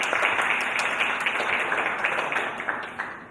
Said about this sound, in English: let's give Frank a warm round of applause